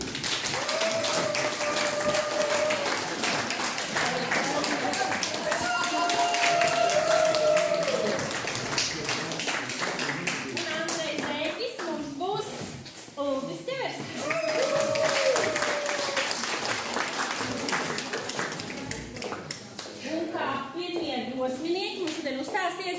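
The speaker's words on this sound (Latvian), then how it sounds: "Sagaidām ar aplausu" Audience applause greets the combined Užava ensemble at a New Year concert, a steady wash of clapping that runs the whole time beneath a presenter's voice.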